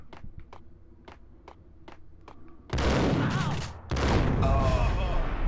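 Shotgun blasts in the Max Payne video game, a series of sharp evenly spaced shots followed by two long loud bursts of gunfire, close and heavy.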